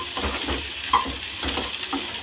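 Okra (bhindi) frying in an uncovered pan, a close steady sizzle with soft stirring scrapes and a brief metallic clink of the utensil near the middle, no voices.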